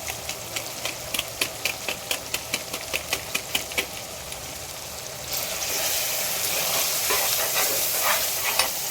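Chicken with masala frying and being stirred in a pan, a steady sizzle with regular scraping strokes of the spoon in a rhythmic series, then a louder continuous hiss.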